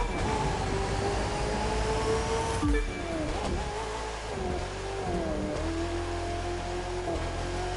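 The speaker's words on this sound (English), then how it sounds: "Yeah, that's a good drift." A car drifts through a turn in The Crew 2, its engine droning in a steady rising and falling whine under a continuous tire and road roar, loud and close, with no voices.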